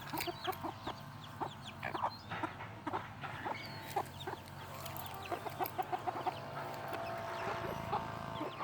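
Silkie chicks cluck and peep in a pen outdoors, a busy scatter of short, soft calls from several birds close by.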